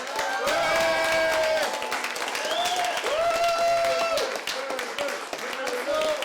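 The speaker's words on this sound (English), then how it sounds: "please give a big applause to David, who is behind this event" Audience applause for the organizer at the Atlantic Challenge Cup 2019, steady loud clapping from a crowd with tonal sounds and voices mixed in throughout.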